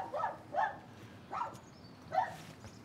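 A Havanese dog barks four times in even, spaced yaps, close by and clear against quiet background noise.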